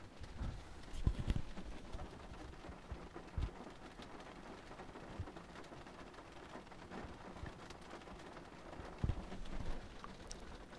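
Steady rainfall patters outdoors, a constant soft hiss with scattered heavier drops and a few louder thumps, no voices heard.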